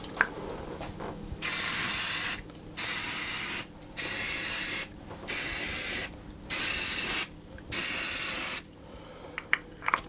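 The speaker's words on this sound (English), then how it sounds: "I'm going to spray them with oil." Six bursts from a spray can of oil onto baguette dough, each hissing for about a second with short pauses between, close and steady.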